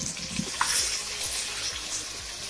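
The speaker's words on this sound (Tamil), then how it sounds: "சேர்த்துட்டு பச்சை வாசனை போடுற வரைக்கும் நல்லா வதக்கணும்" Ground masala of mint, coriander and green chili sautéing in a pan for chicken biriyani, a soft, steady sizzle with light scraping and stirring clicks, fairly quiet and close, no voices.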